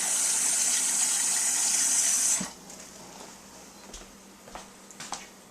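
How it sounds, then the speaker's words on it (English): Hot water gushes steadily from a kitchen tap into a container for cooking rice for about two seconds, then cuts off, followed by a few soft clinks and bumps. "water from the tap"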